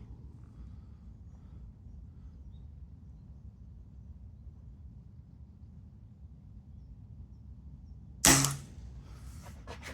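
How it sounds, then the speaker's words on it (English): A single sharp Air Arms Prosport air rifle shot cracks out near the end, loud and close, after several seconds of low ambient rumble at a range. "You can hear the firing cycle of this gun, it's just beautiful."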